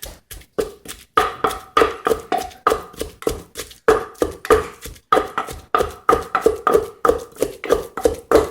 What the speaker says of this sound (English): So now we're going to smash the roast red shallot.